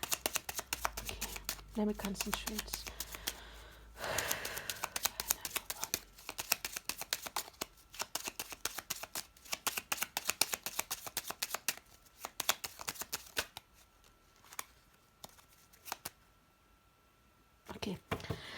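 Lenormand cards are shuffled by hand in quick, continuous riffling bursts close to the microphone, pausing briefly now and then, with a person speaking softly at the start.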